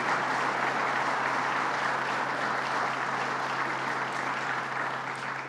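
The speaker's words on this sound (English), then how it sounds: "Let's give him a round of applause, Howard Zemsky." Audience applause at a New York State event, steady dense clapping filling the room throughout, loud and continuous with no pauses or speech.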